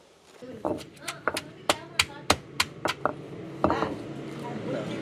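Rhythmic pounding thuds as shallots, ginger and garlic are crushed, about a dozen sharp strikes in a steady beat, close by, with some murmuring in the background.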